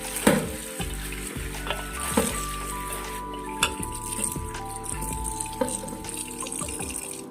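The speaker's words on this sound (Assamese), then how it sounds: "মই তেল দিয়ে দিলোঁ, মাছখিনি এতিয়া মই ভাজি লওঁ।" Fish fries in hot oil for an Assamese home-style dish with lai sak. A steady close sizzle runs throughout, broken by occasional utensil clinks and stirring knocks.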